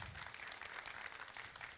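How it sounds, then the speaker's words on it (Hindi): Soft, distant audience applause for the top five contestants of the Arunachal Idol singing competition, a steady patter of clapping lasting a couple of seconds. "तो एक बार जोरदार तालियां हो जाए इनके लिए"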